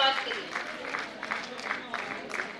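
An audience applauds Kalpana Agarwal at a Women Power 2021 event for International Women's Day, held by the Rajasthan Jain Yuva Mahasabha, with uneven bursts of clapping at moderate distance and voices mixed in.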